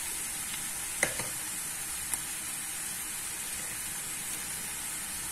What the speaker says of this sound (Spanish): Vamos a dejar que se sofría un poco esto.